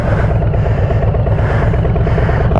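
Motorcycle rolling slowly around a parking lot with the rear brake lightly applied, a loud, close, steady engine rumble with a pulsing throb that swells and dips gently throughout.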